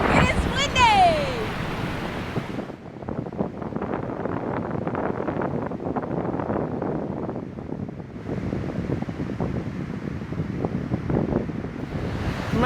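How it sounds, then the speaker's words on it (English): Strong wind buffets the microphone in steady, loud gusts at Godafoss waterfall in Iceland, with a roaring rush of air and rumble beneath a voice speaking briefly near the start. "It is windy!"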